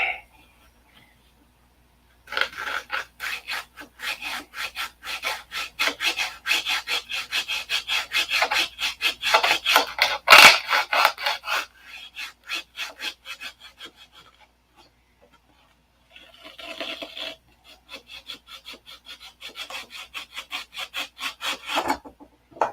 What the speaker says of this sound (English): Need a sandpaper on the stick.